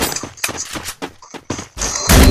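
Gunfire in the mobile battle game Free Fire comes as several sharp, loud bursts of shots with short gaps between them, then a final dense, louder volley.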